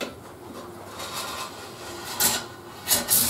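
A cabinet scraper drawn across the cast iron table of a JET JWBS-18Q bandsaw gives soft, steady rasping strokes, with a few brighter scrapes near the end, close and fairly quiet.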